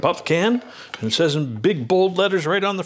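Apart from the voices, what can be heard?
No everyday noises stand out.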